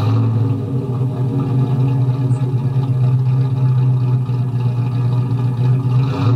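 A 1967 Austin Healey 3000 MkII's straight-six engine runs in a steady, loud, close drone with a strong low harmonic hum, holding an even pitch with slight throttle swells and no talk over it.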